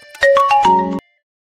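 A phone ringtone plays a short, bright melodic phrase of rising electronic tones close and loud, ending abruptly in silence after about a second.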